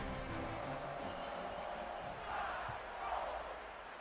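A home crowd at a football game roars in a steady, distant wash of noise, swelling slightly near the end before easing off.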